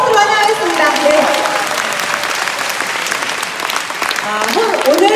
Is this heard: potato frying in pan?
no